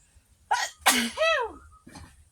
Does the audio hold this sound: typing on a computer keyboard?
no